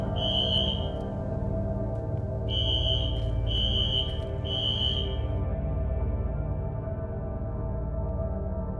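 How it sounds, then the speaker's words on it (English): A fire alarm at a gas station in the zombie survival game VEIN sounds in repeated shrill beeping bursts over a dense, loud rumbling background, then the beeps stop while the rumble continues. "Fire alarms have been added to the Redford gas station and fire department."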